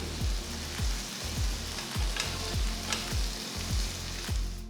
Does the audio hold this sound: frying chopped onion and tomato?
yes